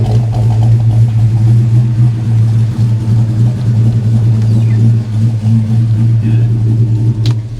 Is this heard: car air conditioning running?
yes